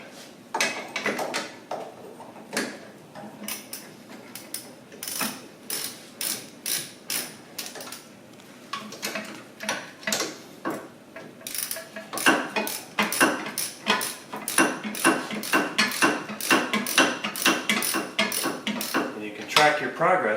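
Mechanical clicks and metallic taps from bolts being snugged in a pattern on a Mazda Miata NC hub while fitting a StopTech Competition brake kit, coming in short repeated bursts that grow busier and louder toward the end.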